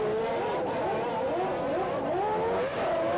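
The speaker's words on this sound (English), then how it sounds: "Senna was out first, and he'd regained the lead in the pit lane." A 1991 McLaren Formula 1 race car leaves the pit lane, its engine whining steadily with rising and falling revs, continuous and moderately loud.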